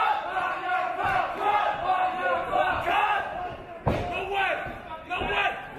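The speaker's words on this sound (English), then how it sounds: "Listen to this FSW crowd in full voice." A wrestling crowd at an FSW show roars in full voice, dense and sustained, with sharp slams or thuds cutting through twice.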